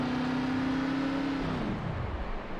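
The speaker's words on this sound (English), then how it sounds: "You can hear him shutting the engine off." Gen 6 stock car at Daytona in a racing video game, its engine tone holding steady and then dropping away as the engine is shut off, leaving a lower rumbling whir.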